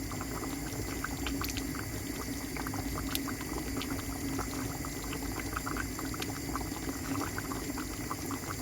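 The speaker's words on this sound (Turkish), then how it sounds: "bakın bu şekilde kaynıyor yemeğimiz harika bir şekilde" A pot of Gaziantep sour and spicy dried dolma stew bubbles steadily at a rolling boil, with continuous soft crackling and popping close by, and no talking.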